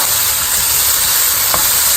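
Onions fry in a pan with a loud, steady broadband sizzle and hiss that fills the whole moment without pause, close up and with no voice heard.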